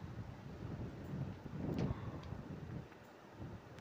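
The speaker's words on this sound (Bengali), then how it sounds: "তো দেখতেই পারছো কি পরিমাণে বাতাস, দেখো পাতাগুলো কিভাবে লড়ছে" Strong wind on a cloudy morning buffets the microphone with low, surging gusts that swell and ease, faint leaf rustle mixed in.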